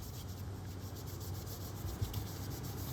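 Steady soft rubbing and buffing of a tea towel against a small polymer clay pendant, continuous and close, over faint outdoor background noise.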